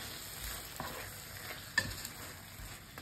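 Lechon paksiw being stirred in a pan, with soft scraping and clinking of the utensil over a low, steady sizzle, close by and without talk.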